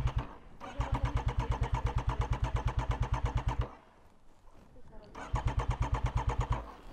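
Motorcycle being restarted after a crash, its starter cranking in a fast, rapid rhythm for several seconds, a short pause, then another cranking attempt, close and loud, with talk in the background.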